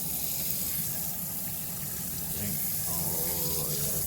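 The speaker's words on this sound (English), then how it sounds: "make sure the water is almost running clear right there" Tap water running steadily into a sink while tie-dyed fabric is rinsed under it, a loud continuous splashing rush with slight shifts in tone as the cloth moves.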